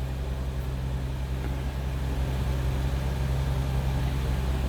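A 1992 Jaguar XJS V12 convertible idling steadily, a smooth continuous low engine hum heard from close by, with no voices.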